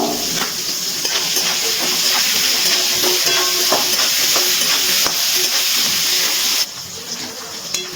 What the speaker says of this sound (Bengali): ফুলকপিগুলো খুব ভালো করে ভেজে নিয়েছি